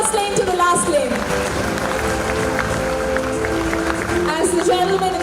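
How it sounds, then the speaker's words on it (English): An audience in an awards hall applauds and cheers continuously, a thick steady roar of clapping and voices, with music and talk layered in the mix. "A very big round of applause from the first lane to the last lane."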